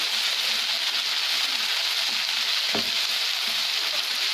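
Hadga flower vegetable frying in a pan over a medium flame, a dense, even sizzle heard up close throughout, with one soft knock partway through and no talking.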